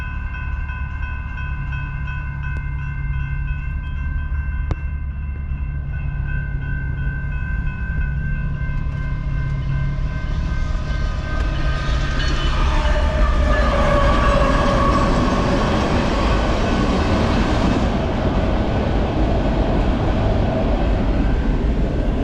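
A long train rumbles past a G35 coupe continuously with a steady low roar and drawn-out horn tones, growing louder and rattling as the cars go by.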